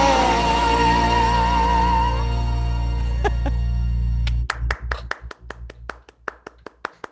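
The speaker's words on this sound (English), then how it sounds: "Big round of applause" Sparse handclaps follow a sustained musical tone. A few separate claps come first, then a short round of applause from a small group, with individual claps clearly spaced rather than a dense ovation.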